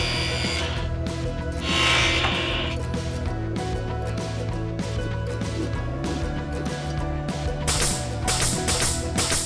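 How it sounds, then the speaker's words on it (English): A table saw with a crosscut sled cuts through a wooden mold base, a loud continuous motor whine with rising and falling grinding as the blade bites the wood. "The Crosscut Sled makes easy work of the mold base."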